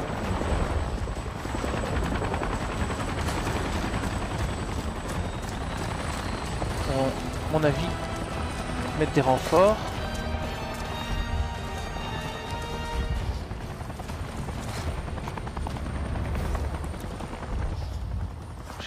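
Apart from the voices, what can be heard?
helicopters in video game Avatar Frontiers of Pandora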